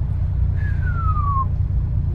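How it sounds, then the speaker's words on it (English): A supercharged 1990 Subaru Sambar kei van slows down, its supercharger giving a thin whine that glides downward for about a second over a low, steady engine rumble. "When you slow down, you have this nice supercharger whine."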